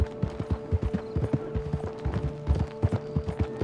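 Horse hooves clip-clop at a steady trotting rhythm while riding in the Red Dead Redemption 2 video game, close and clear over a faint low hum and occasional creaks of tack.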